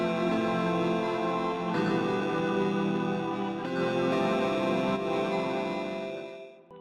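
Two layered synthesizer patches, Sunbaked and sound D, playing together as a sustained, bright chord pad with soft shifts, held quietly for several seconds before fading out.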